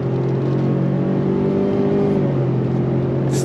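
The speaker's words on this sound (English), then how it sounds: "Doesn't sound like a V8, of course, because there is no V8 with this Expedition, but it actually has a nice sound" A 2022 Ford Expedition Stealth Performance engine accelerates steadily through its 10-speed automatic, with a loud, continuous drone that rises in pitch and holds, heard close from inside the cabin.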